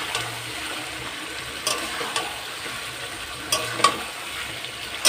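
Potatoes tumble into chicken sautéing in a pan, bringing a steady sizzle and fry with a few louder stirring scrapes and clatters over the hiss, close and moderately loud, with no talking.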